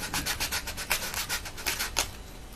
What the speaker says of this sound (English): just lift that little flap up and give it a little rub